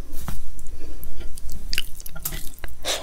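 Someone eats dal and rice up close, with loud wet chewing, smacking and squishing in an irregular rhythm and no talking.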